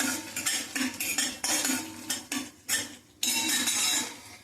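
A metal spoon scrapes and clatters rhythmically against a pan while chana soup ingredients are stirred and sautéed over a low flame, repeated close, loud strokes with a faint sizzle underneath.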